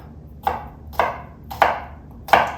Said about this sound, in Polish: a w międzyczasie pokroję w kostkę cukinię